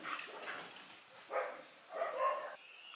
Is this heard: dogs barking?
yes